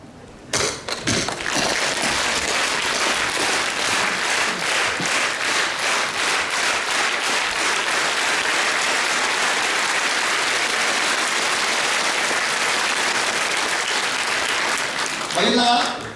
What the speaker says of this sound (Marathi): बघ तर टाळ्या वाजवा ना